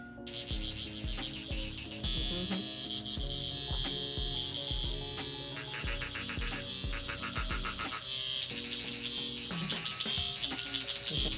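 A motorized microneedling pen buzzes steadily during a skin treatment, giving off a continuous high whir with rapid rhythmic pulsing underneath, close and moderately loud throughout.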